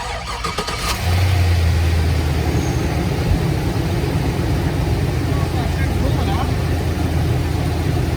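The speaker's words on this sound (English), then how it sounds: "Now I'm going to crank it and I'm going to start it with the cap off" A rusty GMC 2500 truck with a 6.0 engine, bought at auction, cranks briefly and catches, then settles into a steady loud running rumble close by, with talking in the background.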